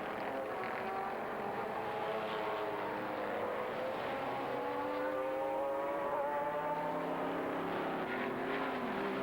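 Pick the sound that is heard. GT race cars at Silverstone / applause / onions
GT race cars at Silverstone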